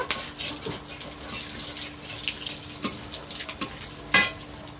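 Dried red chili and a torn bay leaf fry in a pan, giving a soft background sizzle with scattered crackles, pops and a few utensil clinks, one sharper near the end.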